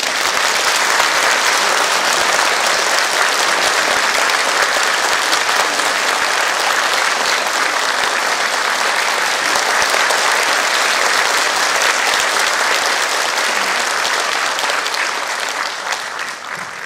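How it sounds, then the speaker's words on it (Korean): A large audience at a city hall lecture hall gives a long, loud round of applause to welcome a Buddhist monk speaker, dense clapping holding steady for many seconds before tapering off at the close. "박수로 환영해 주시기 바랍니다."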